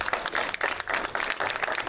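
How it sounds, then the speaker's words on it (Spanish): A gathered crowd at a neighborhood political meeting claps in brief, fairly faint applause, a patchy burst of many hands heard from a distance. "creo que es necesario brindarle un fuerte aplauso"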